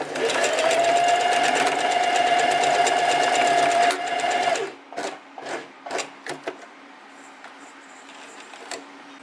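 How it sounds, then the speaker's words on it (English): A sewing machine runs in a fast, steady whirring zigzag stitch for several seconds, then stops, followed by a few soft clicks and taps. "we go over to the sewing machine and we're just gonna do a few zigzag stitches"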